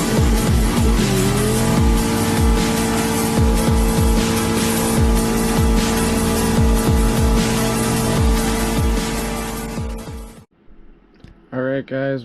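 A Polaris engine bounces off a two-step rev limiter: a loud, sustained harmonic drone broken by rapid, regular pops for about ten seconds, then it cuts off abruptly with a few short bursts after.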